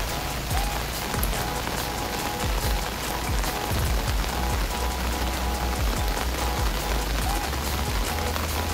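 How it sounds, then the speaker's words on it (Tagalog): Rainwater runs and splashes steadily through a light rain, a dense, even wash of drops and flowing water that stays constant throughout with no voices. "So yan yung normal na daloy ng tubig kapag hindi masyadong malakas ang buhos ng ulan."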